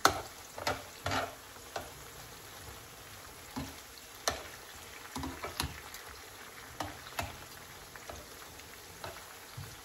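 Food tossed in a frying pan with a few drops of soy sauce gives a steady soft sizzle with many scattered light clicks and scrapes of stirring throughout, close and fairly quiet, with no voice.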